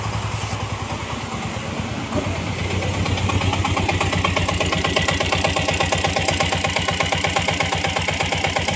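A Mahindra Alfa engine with an overheating fault cranks and starts, then settles into a loud, close, rapid rhythmic idle chug that continues steadily with no talking.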